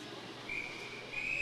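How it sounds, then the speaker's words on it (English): Referee's whistle stopping play for an icing call during an APHL Governor's Cup Finals women's hockey game, heard as two thin steady blasts above a dull arena murmur. "And they got a whistle on an icing call."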